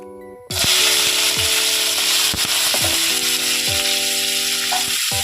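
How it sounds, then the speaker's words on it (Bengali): Bitter gourd frying in hot oil in a Bengali kitchen, a steady loud sizzle that bursts in as the pieces go in and hisses on continuously, with occasional clinks and scraping sounds over it. "খানিকটা উচ্ছে ভেজে নেব।"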